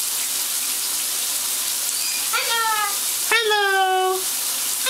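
A tap runs steadily for a pet bird's bath, making a constant bright hiss of water, while a few sharp whistling chirps from the bird cut in near the end.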